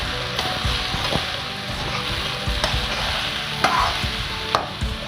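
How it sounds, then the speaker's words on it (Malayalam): Boiled tapioca (kappa) and grated coconut stirred in a pan for a traditional Kerala dish, with a constant close sizzle broken by repeated scraping and knocking strokes of the spoon against the pan. "ഇനി നമുക്കിതിലേക്ക് കപ്പ ഇട്ട് കൊടുക്കാം. നന്നായി യോജിപ്പിച്ച് കൊടുക്കാം."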